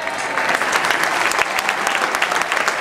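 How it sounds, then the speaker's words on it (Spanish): Large crowd applauding steadily during a Celta Vigo player presentation for a legends versus football stars match, dense continuous clapping with no talk over it. "Aplauso enorme a una de las calentas bien pensantes de este Celta de Vigo"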